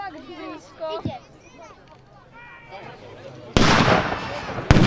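A howitzer fires during a battle reenactment: two loud booming blasts come after a stretch of speech from a nearby voice, with crowd noise around.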